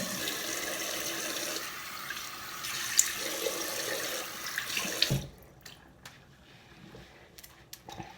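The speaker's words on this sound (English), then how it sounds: "I'm gonna use cold water to rinse it" Cold water runs from a bathroom tap for several seconds during a night-time skincare routine and then shuts off, followed by quieter splashes and drips as a face is rinsed.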